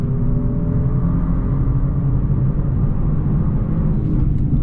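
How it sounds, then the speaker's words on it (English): The turbocharged V6 of a Genesis G70 3.3T AWD sedan pulls hard under acceleration, a loud, steady low engine drone heard from inside the cabin with a rising whine and no breaks, without voices. "The engine is a gem when you really get up it"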